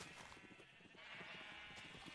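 Sheep in Minecraft bleat repeatedly in a steady, close, moderately loud series, with no talk over them.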